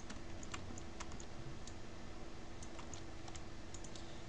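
Backspace key presses on a computer keyboard give faint, irregular clicks and taps over a low, steady room hum.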